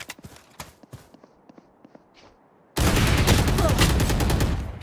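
Video game gunfire during an esports match: scattered sharp shots, then a sudden loud burst of dense rapid fire that fills the last two seconds.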